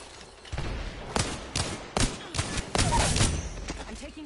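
Gunfire in a console shooter game: a string of loud, separated shots thumps out at irregular intervals, building into a denser burst near the end, with speech faint in the background.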